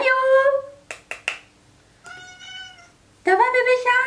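A kitten meows indoors several times, clear high-pitched cries near the start, the middle and the end, with a few sharp clicks between them and a voice talking softly close by.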